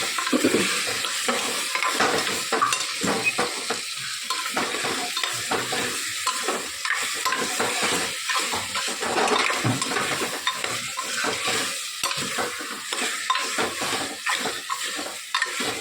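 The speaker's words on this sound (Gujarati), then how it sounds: "સરસ મિક્સ કરી લઈએ." Vegetable curry with cauliflower and potato being stirred and mixed in a frying pan, steady sizzling with repeated scraping strokes of a spoon, close and continuous without talk.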